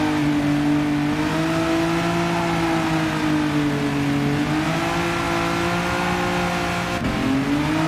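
Engine note of a Chinese-made car in Gran Turismo 7, a steady, loud sustained drone with rising and falling pitch as it revs, a brief dip near the seventh second as a gear shift breaks the tone.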